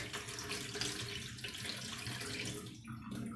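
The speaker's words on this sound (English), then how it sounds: "I'm washing my beans." Beans washed under a running kitchen tap for Nigerian akara, a steady close rush of water into the sink with some splashing shifts and no voices.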